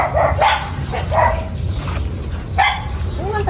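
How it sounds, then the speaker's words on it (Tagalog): A dog barks several times at a distance on a farm, short yelps scattered over a steady outdoor background hum. "May aso."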